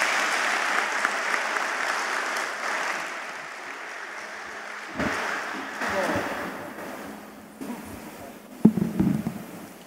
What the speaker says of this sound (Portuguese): Eu peço uma salva de palmas aos expositores.